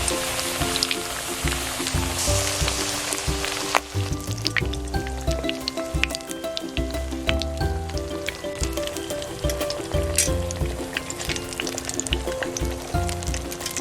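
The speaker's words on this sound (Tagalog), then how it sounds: "Let's fry our eggplant." Eggplant frying in a pan for pork kare-kare gives a steady, close crackling sizzle with dense popping spatters that continues without a break, with no voices.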